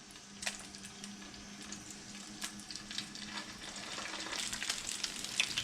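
Patties made from canned mackerel sizzle steadily in a frying pan, a soft continuous crackle with scattered pops, close but fairly quiet, with no talk.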